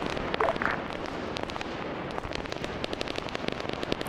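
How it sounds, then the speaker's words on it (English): Grenades going off inside a building during a team-based military shooter game, sounding as a series of sharp bursts and pops over a continuous roar of gunfire and battle noise, with some radio chatter. "So I'm throwing grenades in there."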